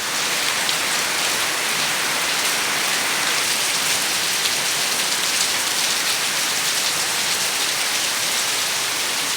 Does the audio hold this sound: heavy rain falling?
yes